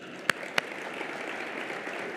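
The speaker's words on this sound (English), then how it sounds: "Please join me in thanking all of them with applause." Audience applause at a charity breakfast, moderate steady clapping opened by two sharp, loud claps near the start, then an even patter without talk.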